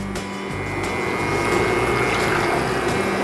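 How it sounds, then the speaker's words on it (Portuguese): Milk poured into a pan for a sauce, a steady liquid rush close by, continuous and fairly loud for a few seconds with no talking. "já vou colocar o leite"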